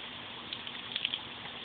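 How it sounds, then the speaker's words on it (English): Water splashes onto a freshly planted pineapple slip outdoors, a soft, steady hiss of pouring with a few faint droplet splatters near the end. "I'm going to put a little water on it."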